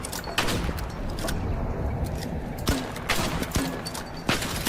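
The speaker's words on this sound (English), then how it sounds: "Autistic Rizzler just got fucking sniped." Rapid gunfire cracks and sharp shots, including a sniper shot, echo inside a CS:GO match, with several distinct bursts over a steady background rumble.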